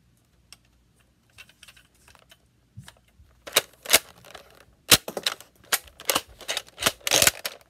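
A Nerf N-Strike blaster fires darts in double-fire mode, giving a series of sharp, close snapping pops in quick irregular bursts that follow a few quieter mechanical clicks at the start.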